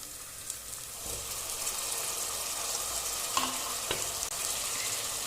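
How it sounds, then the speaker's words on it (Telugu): Tomato pieces go into ginger garlic paste frying in a pan for a village-style mutton curry, giving a steady close sizzle with a few spoon scrapes and stirring knocks. No one speaks. "ఇప్పుడు మనం టమాటా ముక్కలు వేసుకుందాం"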